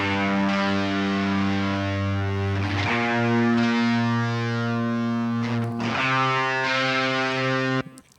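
Gritty, distorted bass guitar notes ring out in long sustained tones, changing pitch a couple of times, loud and buzzing before cutting off.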